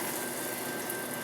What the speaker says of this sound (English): we're going to drain off our pasta